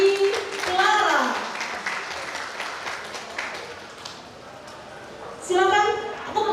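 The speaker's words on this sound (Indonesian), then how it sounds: "kita sambut dengan tepuk tangan yang meriah Niki Clara" An audience claps to welcome a guest at a talk event, the applause running under a host's speech at the start and end and dipping softly in between.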